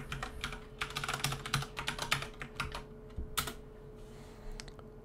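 Fingers tap out a Wi-Fi password on a computer keyboard, giving a quick, uneven run of light clicking keystrokes close by, with short pauses between bursts and no talking.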